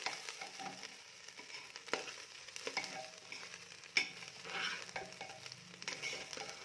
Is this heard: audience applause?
no